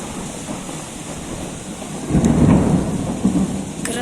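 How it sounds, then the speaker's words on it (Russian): A thunderstorm rumbles with heavy rain, and a low roll of thunder swells midway and lingers over the steady, dense hiss of falling water, loud and close, with no talk. "Гроза."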